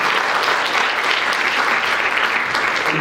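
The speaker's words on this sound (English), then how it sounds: "Give her a round of applause" Loud, close applause for a spelling bee contestant, dense steady clapping from an audience that holds evenly for about three seconds without any talk.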